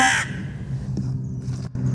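A crow gives a loud, harsh caw at the start, then low background noise continues.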